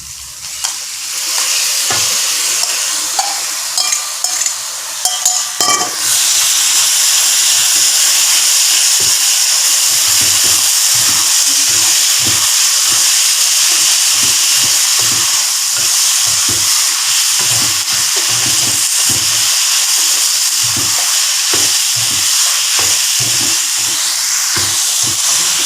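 Mutton frying in a hot pan for a karipap filling gives a steady, loud sizzle and hiss, with frequent soft stirring thumps running under it throughout.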